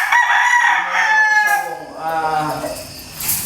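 A Sweater gamecock rooster crows loudly and close, one long drawn-out call that falls away at the end, with a brief rise of sound just after.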